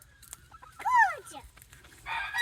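Chickens in a cage clucking and squawking, one sharp rising-and-falling call near the middle and a busier burst of clucks at the end, close over a quiet low background hum.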